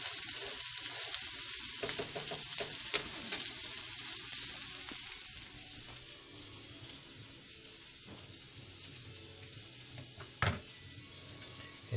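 Cabbage frying with bacon fat and vegetables gives a steady, moderate sizzle. Occasional stirring clicks and a sharp clatter near the end sound over it.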